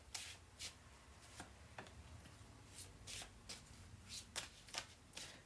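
Tarot cards are shuffled close by in a series of quick, crisp riffling bursts, some single and some in quick pairs, at a soft level with no talking.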